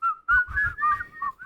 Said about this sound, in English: Help me whistle.